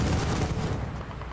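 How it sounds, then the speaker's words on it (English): An airstrike in a multiplayer shooter video game: a dense, loud roar of explosions and gunfire that fills the whole moment and fades slightly toward the end. "Allied airstrike coming in hot."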